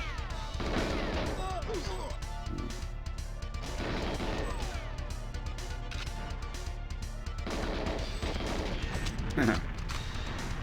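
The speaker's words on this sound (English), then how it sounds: "I love exploding barrels next to enemies." Exploding barrels and gunfire in the N64 game GoldenEye 007, dense bursts of shots and crashing blasts over a constant rumble, with a voice talking over the action.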